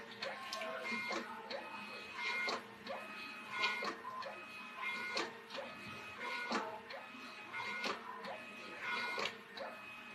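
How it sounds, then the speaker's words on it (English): A label printer in a butterfly lab feeds out labels, giving repeated rhythmic whirring and clicking print cycles at close range, with a faint voice under it. "and I have a label printer."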